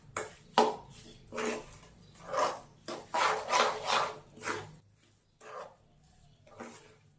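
Warm flour for matar prasad worked by hand in a metal dish, a series of soft rubbing, scraping strokes in uneven bursts, close and fairly quiet.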